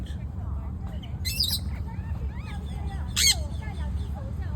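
Parrots at East Coast Park, Singapore give two short, harsh squawks a couple of seconds apart over steady low outdoor rumble, with fainter chirps scattered between.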